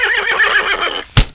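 A horse lets out one loud, close whinny with a shaky, wavering pitch lasting about a second, followed by a short thud.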